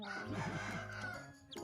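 Newly hatched Muscovy ducklings give a busy run of high, thin peeps that overlap one another close by, with a steady low hum underneath. No voices are heard.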